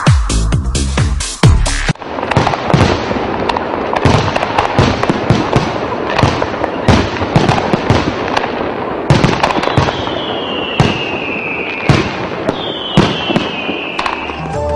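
Diwali fireworks and firecrackers going off in a dense, rapid string of loud bangs and crackles, with a few rising whistling rockets near the end.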